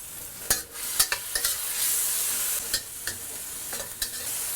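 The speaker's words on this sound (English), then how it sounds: "Okay, so I'm gonna add my grachai and my peppercorns. Toss it one last time while my fish is still somewhat sturdy." Fish is stir-fried in a wok with grachai and peppercorns under a steady sizzle, broken by several sharp scraping tosses of the spatula at irregular intervals.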